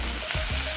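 Green chillies frying in a pan for a Rayalaseema-style mirchi fry, giving a steady, close sizzle with a brief stir partway through.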